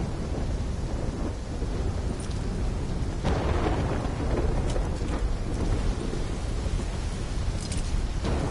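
A thunderstorm in the Black Ops 3 campaign: steady heavy rain with deep rolling thunder and occasional sharper cracks, continuous and dense with no break.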